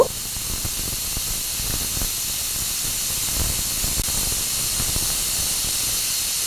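A pressure cooker boiling beef tripe gives a steady, moderately loud steam hiss that holds throughout, with no voices.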